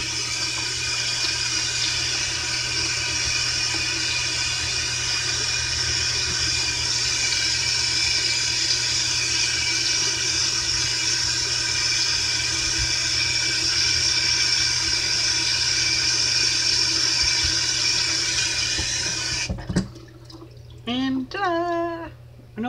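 A tap runs steadily into a sink as hands are rinsed clean of hair color wax, a loud continuous splashing stream that stops near the end, followed by a voice speaking.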